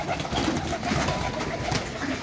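Pigeons and doves kept together in a coop coo steadily and close by, a soft, continuous murmur with no talking.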